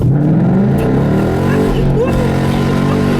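A 2015 Ford Mustang GT V8 with a Roush exhaust roars loudly as the car accelerates on a back road, the engine note rising and rumbling up close with a deep, steady growl.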